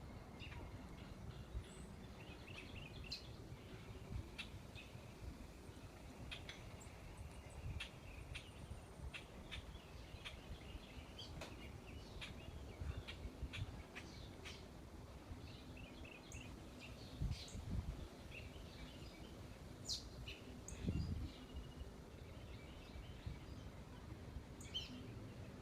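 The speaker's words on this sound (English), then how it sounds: "A lot of chirping going on." Birds chirp and tweet in a yard on a fine day, scattered small calls near and far over a steady outdoor hum with faint insect buzz.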